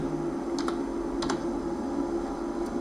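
A computer keyboard being typed on while someone fills in an online application form for RRC NCR Prayagraj 2024: a few sparse, light key clicks over a steady background hum, with no talking.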